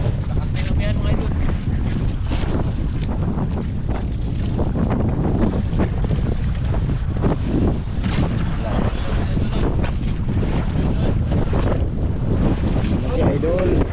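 Strong northeast monsoon wind buffets a boat at sea, a loud, steady roar with heavy microphone wind noise and rushing waves throughout, occasional faint voices underneath.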